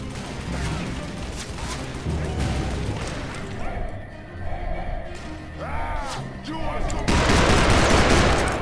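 Gunfire in the Western shooter game Call of Juarez: Bound in Blood, a dense run of sharp repeated shots and crashes with brief lulls, swelling into a loud burst of rapid fire at the end.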